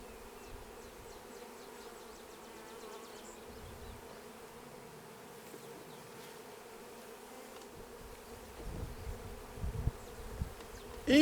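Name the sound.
honey bees buzzing during colony installation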